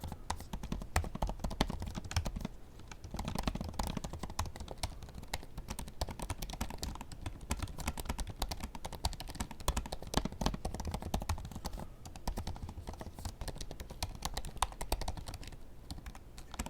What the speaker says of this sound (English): I'm going to type a couple sentences.